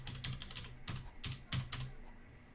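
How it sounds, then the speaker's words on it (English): Keystrokes on a computer keyboard while entering commands on an Intel Linux machine, a few irregular clusters of clicky taps, close and clear with quiet pauses between them. "I must have typed something in wrong there."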